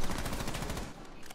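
Rapid automatic gunfire from a weapon in a realistic Terrorist Hunt match of a shooter game, a loud continuous burst of closely spaced shots that fades slightly at the end.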